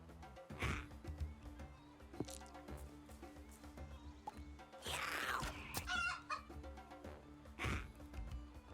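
Chickens clucking in the tabletop-style game Dobbel Dungeon, scattered clucks and a crowing rooster over game music, with bursts of louder effects midway.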